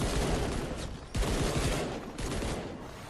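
Papa Bear SMG firing in Fortnite Save the World, rapid dense automatic bursts blending into a continuous loud roar, broken by two brief gaps between sustained volleys, with no voices.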